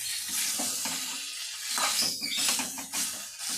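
Chickpea bhuna (chola bhuna) being stirred in a pan, with a steady background sizzle and a few scraping, clattering strokes of the spoon against the pan.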